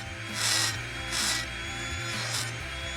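A small electric nail drill whines steadily while a grinding, rasping filing sound swells three times in short strokes, faint and close, as the drill's corner files the edge of a nail.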